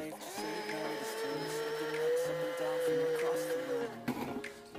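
A grinder whirs as it blends grass with water into pulp for papermaking, a steady tonal motor hum that wavers slightly in pitch before cutting out, followed by a brief clatter.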